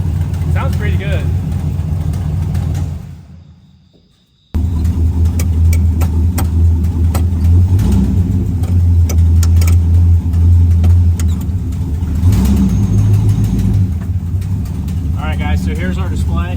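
A Jeep CJ7 rock crawler engine with an exhaust leak idles with a rough rumble and revs up now and then. It drops out briefly, and voices talk over it.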